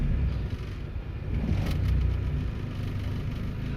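A D16-swapped 1991 Honda Civic EF engine runs rough, a close, low, uneven rumble that swells slightly midway and stays steady throughout with no talk.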